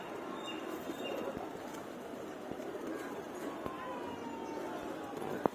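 Pigeons in a loft coo faintly in low, soft murmurs beneath a rushing background, with a person talking nearby.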